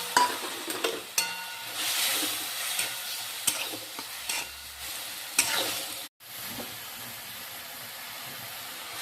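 Dal tossed into a hot pan with turmeric on lowered gas, sizzling and frying with stirring scrapes and clinks, close and fairly steady with a short drop near the end, no talking.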